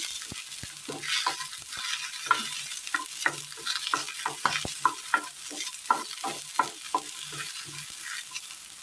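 Small shallots and kanthari chillies saute in a pan, a soft steady sizzle broken by a rhythmic series of spoon scrapes and stirring clinks, close and alone.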